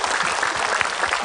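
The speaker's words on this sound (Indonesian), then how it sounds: "Tepuk tangan dong buat Mas Ipo." Audience applause in a studio at an Islamic religious talk show, steady dense clapping throughout the short moment, moderately loud with no voices over it.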